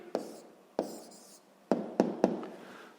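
Pen writing out the answer to a sixth-grade rational-numbers exercise, heard as a few close, sharp taps and scratchy strokes: two early, then a quicker cluster of three near the end.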